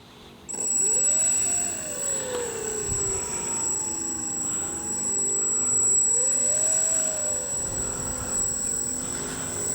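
Electric motor of a Dynam Tiger Moth RC biplane running on a runway on a breezy morning, a steady high whine with rising and falling pitch sweeps as it throttles, fairly close.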